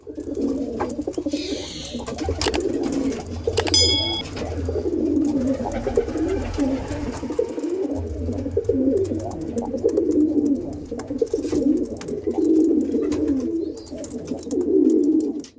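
Kalanka pigeons coo continuously in a crowded loft, their low burbling calls overlapping throughout at close range with a brief clatter near the start.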